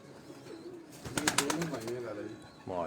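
Pigeons in a caged loft in Dharampura, Lahore give soft, warbling coos. A burst of close flapping or rustling comes in the middle, all at a fairly low level.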